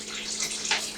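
Warm water runs from a kitchen tap in a steady, close splashing gush lasting about a second, with no talking over it.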